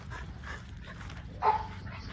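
A pit bull puppy gives soft whimpers and a few short yips and barks, fairly close, with one louder bark near the end.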